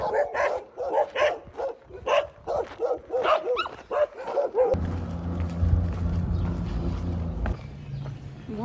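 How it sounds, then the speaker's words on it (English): Street dogs bark in a rapid, repeated volley close by, several loud yelps in a row, then give way to a steady rumbling engine-like drone that cuts off near the end. "You're not gonna miss street dogs."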